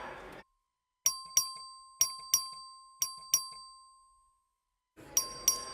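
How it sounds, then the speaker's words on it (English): A clerk rings the voting bell in a legislative chamber during a record vote. Bright, ringing dings come in quick pairs, each decaying slowly, then another pair follows after a pause, with faint room murmur at the start and end. "The clerk will ring the bell."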